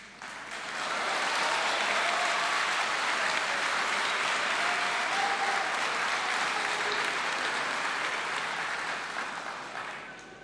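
Sustained applause fills the Argentine National Congress during a speech by Javier Milei, a dense, steady roar of many hands clapping that holds for about ten seconds before starting to fade.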